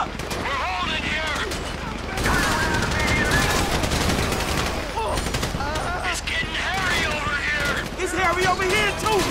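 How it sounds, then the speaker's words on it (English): Gunfire in GTA V during a bank-robbery shootout surrounded by police: dense, rapid automatic bursts and overlapping shots rattle loudly and continuously, with people shouting throughout. "Listen to the shooting!"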